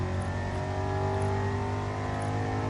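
A V8 truck engine in a racing video game holds a loud, steady, buzzing drone with strong low harmonics throughout, close and continuous.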